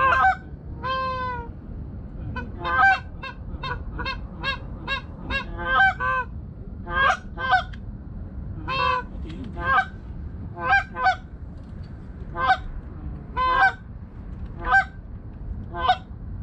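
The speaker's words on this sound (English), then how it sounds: "that's a geese right there in the middle" Geese honk repeatedly in short, loud calls, some in quick bursts and others spaced apart, ringing out over faint background rumble during a Minnesota waterfowl hunt.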